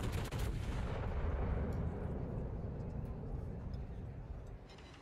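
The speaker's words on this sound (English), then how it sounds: "Let me show you what a Montana full broadside when you're not angled can do." Heavy naval gunfire from a Montana battleship firing a full broadside in World of Warships, a loud booming burst at the start that rolls into a long, dense rumble trailing off over several seconds.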